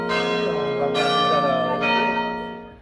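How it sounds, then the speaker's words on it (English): A church bell rings near Braga Cathedral, a very old church dating to about 1100, with a strong, ringing tone. Three struck peals sound close and loud, each left to hum and decay into the next. "That's the starting bell."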